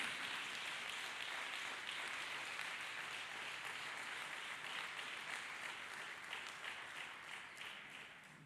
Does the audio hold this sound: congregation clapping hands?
yes